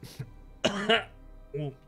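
Two short coughs or throat-clearing bursts from a nearby person, separated by brief pauses, in an otherwise quiet room.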